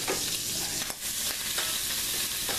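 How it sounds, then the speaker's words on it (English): Scrambled eggs with ham and cheese frying and sizzling in a pan, a steady close hiss broken by a few soft stirring scrapes, with no talking. "Cooking myself some scrambled eggs with ham and cheese"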